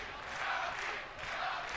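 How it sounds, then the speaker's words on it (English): A wrestling arena crowd in the WWE 2K22 video game cheers in a brief, dense swell of massed voices, rising and falling slightly over under two seconds. "Crowd firmly behind Shotzi."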